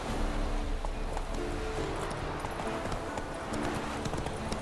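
Hooves of Roach, the horse in The Witcher 3, pound in a quick, steady run, close and continuous, over a low game ambience with faint music-like tones.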